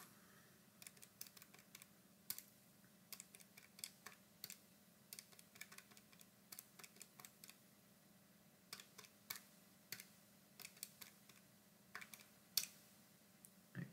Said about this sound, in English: I'm going to need to type this into my calculator